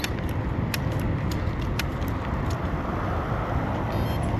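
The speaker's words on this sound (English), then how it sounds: "see how that car comes out so fast?" A car comes out fast near a rail trail crossing, its steady road roar close and loud, with faint jingling clicks on top and no talk.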